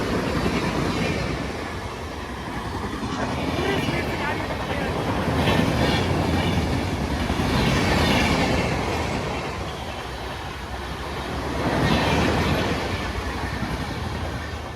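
Udhampur Express rolling past a station after passengers have stepped off, a steady loud rumble of wheels and carriages with swelling surges, close by, with people talking over it.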